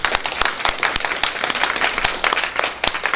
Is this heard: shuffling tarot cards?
no